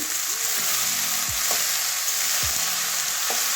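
Green chilies fry in ghee with onion in a pan, a dense, continuous close sizzle with a few soft clinks of a stirring spoon and no talking.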